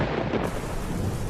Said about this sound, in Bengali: ঠিক তখনই নামল মুষলধারে বৃষ্টি।